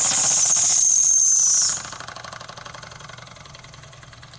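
A Wilesco D10 toy steam engine runs with a loud steady hiss for under two seconds, then drops to a quieter rhythmic chuffing as the pressure is relieved and the motor nearly stalls.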